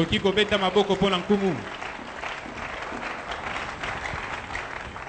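A church congregation applauds and cheers, with a sung or chanted voice rising over the clapping at first, then a steady wash of applause that carries on to the end.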